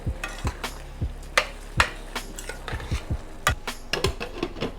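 A utensil stirs chicken with frozen peas, carrots and diced cilantro in a hot pan, giving sharp, irregular scrapes and taps against the metal over a steady low sizzle, with no talking.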